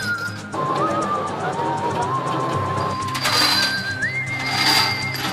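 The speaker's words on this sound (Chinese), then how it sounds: "接着工人把螺母一个一个安装到销子上" Workers fit metal nuts one by one onto galvanized metal hitch pins by hand, making light metallic clinks and rattles that cluster toward the end over workshop background noise with a faint voice.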